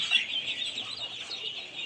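High, steady chorus of seven-day-old Khaki Campbell ducklings peeping, many calling at once, close and continuous with no talking.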